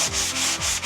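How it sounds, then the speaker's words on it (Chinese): Rhythmic sanding strokes rubbing across a latex-painted interior wall with yellow water stains, close and steady, about four back-and-forth passes in under a second. "那打磨"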